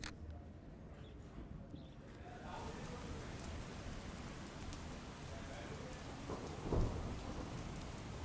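Steady monsoon rain falls in Banaskantha, Gujarat, with a single sharp thunder crack about two-thirds of the way through. The hiss of the rain is constant and even throughout.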